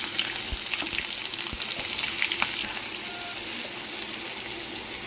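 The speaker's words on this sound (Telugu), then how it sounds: "ఉల్లిపాయలు వేసేస్తున్నాం" Sliced onions frying in hot oil with mustard seeds, cumin and curry leaves for a bitter gourd gravy, giving a steady, close, dense sizzle with faint crackles throughout and no talking.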